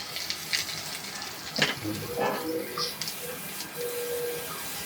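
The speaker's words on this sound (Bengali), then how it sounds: "এবারে ভালো করে আরো নাড়াচাড়া করে হলুদ আর লবণটা মিশিয়ে নেব" Soaked flattened rice frying in mustard oil with salt and turmeric, stirred in a pan: a soft continuous sizzle with a few scrapes and clinks of the spoon, close and fairly quiet.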